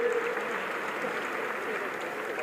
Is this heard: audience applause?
yes